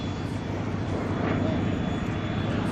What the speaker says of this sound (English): we've got a bogey in the air